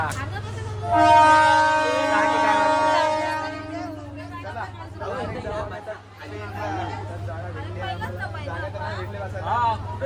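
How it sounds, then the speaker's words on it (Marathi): A train horn blares loudly for several seconds over a steady engine hum, then people chatter nearby as the rail rumble continues. "चला ट्रेन तर भेटलेली आहे, आता आम्ही जाणार ट्रेनला."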